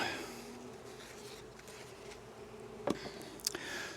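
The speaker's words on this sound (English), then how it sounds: "The amount of bees that are in there" A crowded beehive during an early June inspection, with a steady low hum of many bees buzzing close by, broken by a couple of sharp knocks or handling sounds near the end.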